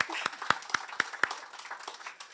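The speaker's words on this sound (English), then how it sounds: "Give ourselves a round of applause." A small outdoor crowd at an underwater sculpture park unveiling ceremony gives a short round of applause, about five distinct claps standing out before the sound thins into scattered, fading clapping.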